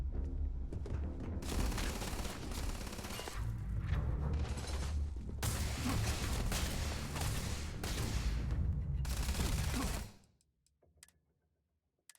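Sustained bursts of rapid gunfire in the space game Starfield, loud and dense, rolling in several long volleys before cutting off into near silence at the end.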